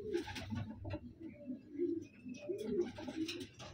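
Pigeons cooing close by in soft repeated throaty phrases, with a few light rustles and faint background sounds.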